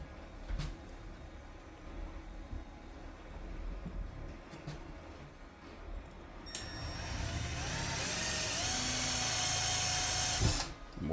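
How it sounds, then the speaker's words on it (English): A power drill whirs steadily for several seconds, bores a hole during a home elevator installation, then cuts off abruptly, following some quiet handling noises. "Now you go ahead and drill your hole."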